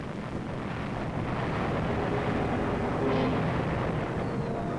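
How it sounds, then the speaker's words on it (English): An ammunition dump explodes in an abandoned city during the Korean War, heard as a sustained, dense roar without distinct separate blasts, loud and unbroken throughout. "An ammunition dump goes up"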